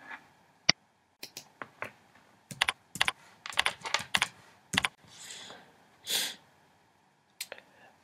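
Typing on a computer keyboard into a search box, sharp clicks in short irregular bursts with pauses between, close and clear with no talk.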